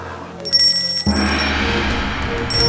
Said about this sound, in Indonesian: ada tukang cendol yang bunyi lonceng